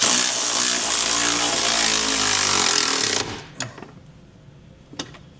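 A power driver whirs steadily for about three seconds snugging trailer hitch bolts on a 2025 Kia Telluride, then stops, followed by a few light metallic clicks and taps.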